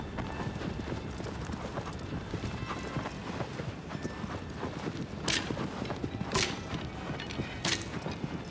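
Hooves clop steadily from a horse walking in Shadow of the Colossus, a continuous rhythmic patter over a busy background wash, with a few sharper knocks near the end.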